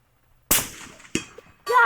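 Sharp gunshots strike an Atlas steel whitetail buck target, three distinct cracks spaced across a couple of seconds, each followed by a brief metallic ring against an otherwise quiet background.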